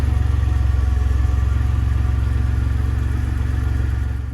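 A steady, deep car exhaust with MegaSquirt EFI rumbles at idle with a pulsing low throb and faint mechanical clatter, close and continuous throughout.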